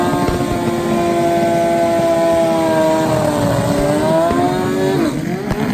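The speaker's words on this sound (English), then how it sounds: "Steve Venables on the DME Suzuki Hayabusa coming off the win" A Suzuki Hayabusa drag racing motorcycle screams as it accelerates at Santa Pod, its high engine whine climbing steadily through the gears, loud and continuous, then backing off near the end.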